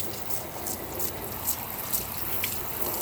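A hose nozzle set to shower mode sprays water over a car, making a soft, steady hiss with faint dripping and splashing throughout, and no voices.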